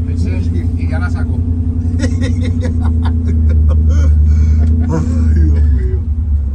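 Jeep LJ held at high revs while pulling a Ford at an off-road adventure park: a loud, sustained engine rumble with a steady droning tone, while people talk and laugh over it.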